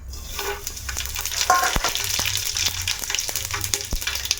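Whole cloves, cardamom and cumin seeds fry in hot oil for a Telugu vegetable rice, giving a steady close sizzle with a sharper burst of crackling midway and a few scattered pops, and no one speaks.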